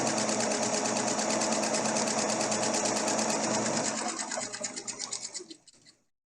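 A sewing machine runs a fast, continuous whir while stitching a patchwork seam, then slows into distinct stitch pulses and stops near the end.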